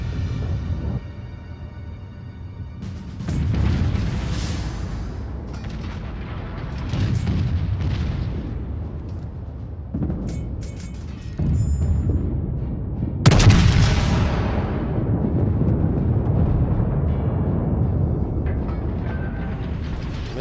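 Warship guns firing in the naval battle game World of Warships, with deep rumbling booms and heavy salvos rolling over a continuous low engine and ocean drone, one especially loud blast standing out near the middle.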